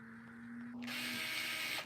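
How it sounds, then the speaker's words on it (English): A weak-bitted drill whines as it spins up, then bites into wood with a rough, grinding rasp that holds for about a second before cutting off, close and fairly quiet. "Will it drill through wood?"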